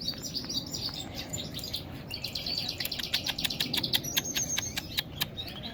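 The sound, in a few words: small seed-eating bird, canary or grosbeak, chirping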